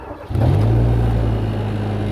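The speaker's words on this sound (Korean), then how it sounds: "아까처럼 이렇게 그 농약칸에 시동을 겁니다" A speed sprayer's engine starts up with a brief cranking catch, then settles into a loud, steady mid-pitched idle hum close by.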